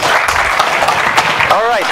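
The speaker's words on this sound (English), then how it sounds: "Let's applaud Jan Simon." Audience clapping at a FOSDEM 2014 conference talk on the Linux kernel, brief and fairly loud, mixed with voices speaking over it.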